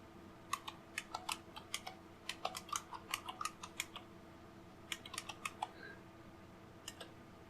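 Quiet clicky typing on a computer keyboard, bursts of rapid keystrokes with short pauses between them, close and fairly soft, no voices.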